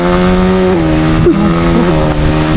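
A motorcycle engine drones loudly and close, its pitch wavering as it revs and shifts during a pass.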